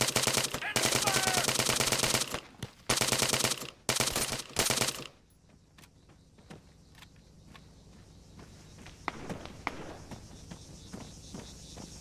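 Gunfire in the video game Arma 3: dense, loud automatic bursts fill the first five seconds in several rapid volleys, then scattered fainter shots and distant cracks follow over a quieter background.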